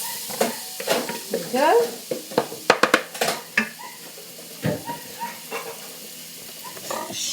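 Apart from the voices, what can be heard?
coated paneer sizzling as it fries in a pan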